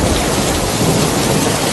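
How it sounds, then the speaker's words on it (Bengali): Heavy rain pours in a loud, dense roar during a cartoon thunderstorm, wind and rumbling thunder blended into one continuous wash of noise with no voices. "আকাশে জোরে বিদ্যুৎ চমকাতে লাগলো, মুষলধারে বৃষ্টি শুরু হলো, জোরে হাওয়া বইতে শুরু করলো।"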